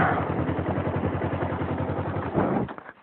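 A motorcycle engine runs close by with a steady rhythmic putter, then revs briefly and cuts off near the end.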